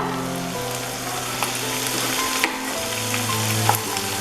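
Chicken chukka cooks in a pan with a loud, continuous sizzle and frying crackle, close by and without talk.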